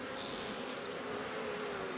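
Steady, dense insect buzzing from many honey bees at a hive, a continuous drone close by with no voices.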